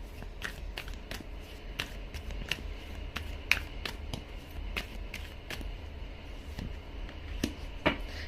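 A tarot card deck being shuffled close up, a steady run of crisp riffling snaps and flutters repeating every half second or so, alone with no talk over a faint room hum.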